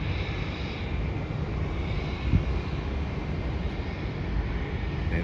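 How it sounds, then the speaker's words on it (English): A Qantas Boeing 737 arriving from Brisbane on approach to land produces a steady broadband jet roar at an airport plane-spotting spot, constant and fairly loud throughout with no voices. "There is a plane that's coming in to land from Brisbane. And that is a Qantas Boeing 737 coming in to land"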